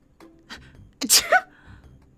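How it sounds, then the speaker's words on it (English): A single sharp sneeze in a visual novel game bursts out after a short breathy intake, close and clear against near silence. "My sneeze echoed into the room"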